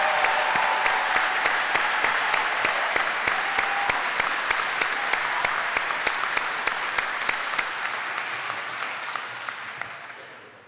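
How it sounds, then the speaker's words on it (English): An audience at the 2013 Pittsburgh Science and Technology Academy high school graduation ceremony claps in sustained applause in a large hall, dense and steady before gradually tapering off. "Please join me in a round of applause for these individuals."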